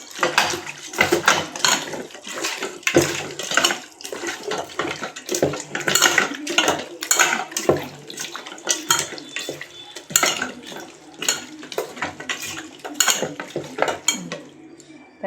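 Country chicken is tossed and mixed in a pot for a village-style curry, with a spoon scraping and clattering against the metal in quick, uneven strokes, close and fairly loud, with no talking.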